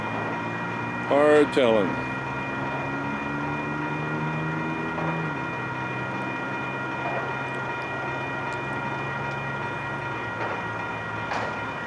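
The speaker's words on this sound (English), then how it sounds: "here comes the train" A slow freight or passenger train rolls in on an Arizona line in January, with a loud horn blast early, then a steady low rumble and tonal hum throughout as someone says a few words.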